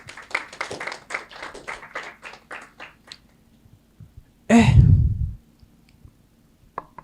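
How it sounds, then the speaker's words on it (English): An audience claps its hands in a brisk burst of overlapping claps that thins out over about three seconds, followed by a few scattered taps, one loud rustling thump and near silence. "Hand clap for him."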